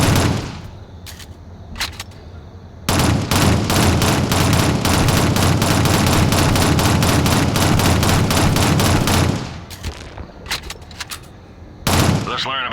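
Sustained automatic gunfire aimed at a troll and a human in the video game Shadowrun, a loud, dense burst lasting several seconds, framed by short bursts and single shots before and after.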